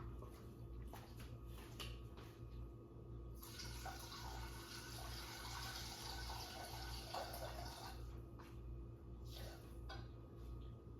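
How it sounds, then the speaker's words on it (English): Water pours into a cooking pot for a canned jack mackerel sauté broth, a soft splashing stream running for several seconds, with light clinks of the pot before and after, quiet and close, no talking. "Adding the same amount of water to this."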